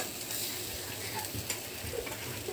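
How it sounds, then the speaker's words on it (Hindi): Eggplant slices frying in a pan give a soft, steady sizzle with faint scattered crackles and light ticks, low and close with no talk. "देखिए बैगन हम लोग का फ्राई हो गया है"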